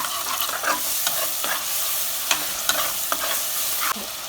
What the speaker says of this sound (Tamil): இப்போ அரைச்சி வச்ச மசாலாவை போடுறோம். போட்டு கலக்கி வைக்கிறோம்.